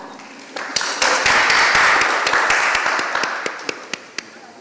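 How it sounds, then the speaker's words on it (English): An audience claps for a speaker's introduction at a Barbados Meteorological Services and emergency management discussion; the applause swells, then thins to a few scattered, sharp individual claps near the end. "You can clap."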